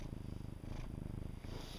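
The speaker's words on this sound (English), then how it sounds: "Yeah, he's purring." A house cat purrs right by the microphone, a low, rhythmic rumble pulsing steadily with each breath, heard alone and fairly quiet.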